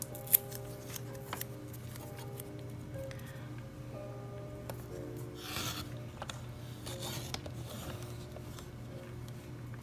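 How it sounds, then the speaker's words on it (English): Scissors snip through a small paper strip for a card, a string of quiet close crisp cuts and light paper rustles over a low steady background hum. "the piece that you're cutting is too small to keep straight"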